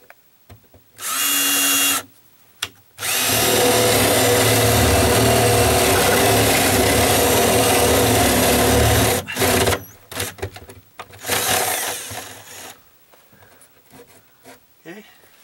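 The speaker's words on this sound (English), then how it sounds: "I'm just going to drill a hole through this." A cordless drill with a 3/4 inch paddle bit revs briefly, then bores through wood steadily for about six seconds with a low grinding chatter, followed by short bursts and clattering handling sounds.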